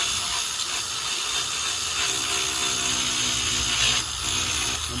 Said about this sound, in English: We're grinding out the old fiberglass so we can have so the new fiberglass has something to stick to.